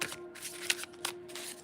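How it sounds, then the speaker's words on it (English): A deck of cards is shuffled close up, with several quick rippling bursts of riffling over a faint steady background hum. "I'm always trying to be careful with my shuffling as well"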